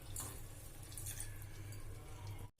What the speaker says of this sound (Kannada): 1 ಬಟ್ಲು ಬೆಲ್ಲಕ್ಕೆ ಅರ್ಧ ಬಟ್ಲು ಅಷ್ಟು ಏನದ ನೀರು ಹಾಕೊಳಕತ್ತೀನಿ